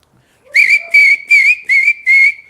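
A person mimics a traffic policeman's whistle, giving five sharp, loud, shrill blasts in quick even succession after a brief quiet start.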